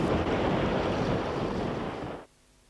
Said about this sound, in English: With a 15-knot southerly blowing, conditions were good for a race on the lake